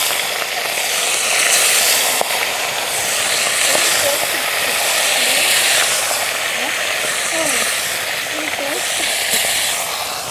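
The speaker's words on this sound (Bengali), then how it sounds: "মাছগুলোকে এবার একে একে ভেজে নিচ্ছি।" Rui fish pieces, rubbed with turmeric and salt, fry one by one in oil in a wok (karahi). A steady, loud hiss and sizzle fills the clip, and a voice talks over it at times.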